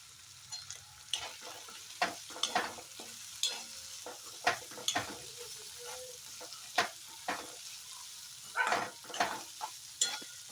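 Ridge gourd stir-frying in a little oil in a pan, a soft steady sizzle punctuated by distinct, close scraping strokes of a spatula at irregular intervals.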